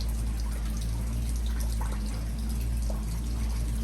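Water from a fish tank pouring out through a bottom drain under repair, a continuous close splashing stream over a low steady hum.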